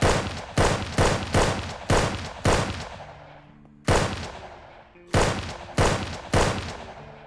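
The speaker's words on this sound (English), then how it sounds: "Because this is so much more firepower than that other gun" Repeated gunfire from a weapon in the video game SurrounDead, loud close shots in bursts of single cracks with reverberant tails, a pause, then more shots.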